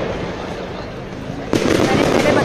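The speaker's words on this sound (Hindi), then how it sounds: "खूब सारे पटाखे।" Fireworks and firecrackers on Bonfire Night in the UK, a dense rumbling crackle of distant bangs that jumps louder partway through, with a person talking over it.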